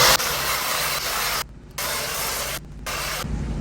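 Ryobi hedge trimmer cutting a hibiscus hedge, a steady broadband buzzing and rasping that runs continuously and drops out briefly twice.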